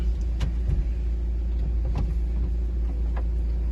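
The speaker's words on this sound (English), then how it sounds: "I'm going to get the roof all folded away now." A BMW 420d M Sport convertible's electric roof folds away with a steady whirring motor drone over low rumble, a few faint clicks and clunks as panels move, close and continuous with no talking.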